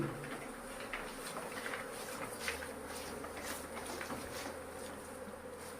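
Steady insect buzzing fills the whole stretch, a dense swarm of flies droning close by around honey, with no voices.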